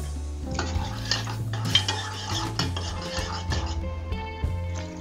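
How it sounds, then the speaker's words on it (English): A spoon stirs a bourbon, mint and simple syrup cocktail in a glass, scraping and clinking against the sides in quick, uneven taps, close and moderately loud. "And then you could just stir it around a little bit."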